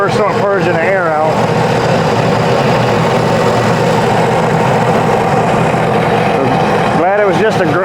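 A jet ski engine idles close by in a constant low rumble, with a voice talking briefly over it at the start and near the end.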